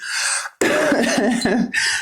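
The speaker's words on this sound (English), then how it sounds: "Still got the remnants of that cough going on." A single sharp, close cough, followed by a raspy throat-clearing and a harsh breathy exhale.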